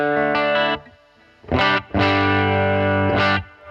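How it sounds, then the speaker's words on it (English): An electric guitar played through a distorted amplifier with reverb placed into the front end rings out in sustained chords separated by brief gaps, thick and saturated with a lingering tail, no voices. "On this demo, I'm using a reverb into the front."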